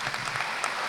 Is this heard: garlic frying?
no